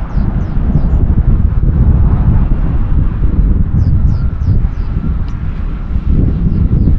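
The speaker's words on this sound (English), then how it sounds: "I'm just a bit worried about the wind because it's so windy" Strong wind roars continuously across an open outdoor site while a drone is flown with a RadioMaster Zorro radio, the gusts buffeting the microphone loudly throughout, with faint high chirps now and then above the rumble.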